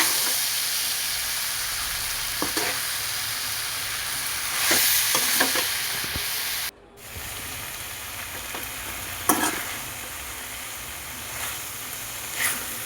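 Okra sautéing in oil with turmeric and salt: a steady close sizzle with scattered stirring scrapes and clicks, briefly cutting out midway, with no talking.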